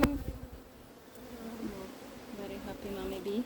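Honeybees buzz around an open beehive of a laying queen, a soft steady drone with several bees near and far and changing pitch.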